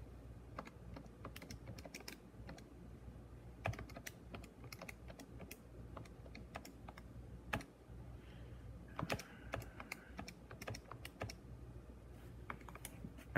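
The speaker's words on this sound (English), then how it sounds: "After I type in all my numbers, let's go to matrix and do RREP." Fingers tap numbers into a graphing calculator, a dense run of quick plastic key clicks with uneven rhythm and brief pauses, close and dry, with no voice.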